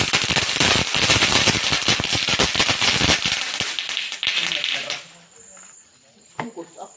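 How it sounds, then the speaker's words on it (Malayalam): Palm-leaf firecrackers burst during Vishu celebrations in a rapid crackling string of sharp pops for several seconds. After that come a few scattered later bangs and a thin whistle, with voices faint in the background. "ഓലപ്പടക്കം"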